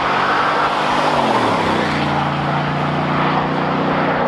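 A Chevy Silverado truck engine fitted with a cold air intake, running with a loud, continuous close-up roar and a low rumble that shifts pitch as it revs.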